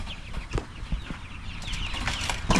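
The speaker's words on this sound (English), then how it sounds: "These are supposed to be all hens." Young Freedom Ranger chickens, meant to be all hens, give off soft, scattered clucks and chirps close by, with light rustling and a bit of wing flapping around them.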